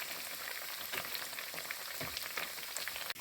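Steady crackling sizzle of corn tortillas frying in hot oil, dense and continuous throughout, close up with no voices.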